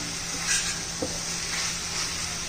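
Raw banana pieces sautéing in green masala in a pan, a faint, steady sizzle with light stirring and occasional soft knocks, close by and with no talking.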